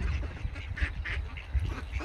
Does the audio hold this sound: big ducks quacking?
yes